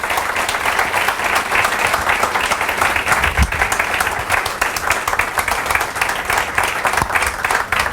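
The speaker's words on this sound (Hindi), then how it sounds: "जोरदार तालियां इनके लिए।" A crowd at a motivational training session in Mumbai breaks into loud, sustained applause, dense continuous clapping filling the room for several seconds with no talk over it.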